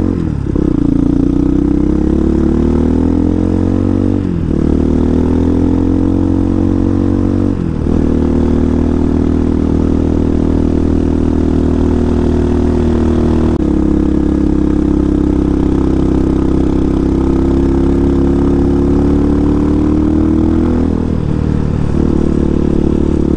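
Brand-new Vitacci Apollo DB36 supermoto with no miles on it, engine idling loud and close in a steady mid-pitched drone, the tone wavering slightly with small throttle shifts and no voices.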